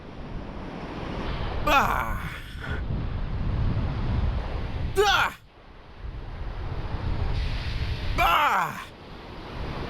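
Ocean waves wash steadily against a rocky shore with a constant rushing roar and blustery wind on the microphone. Someone shouts and exclaims several times over the surf.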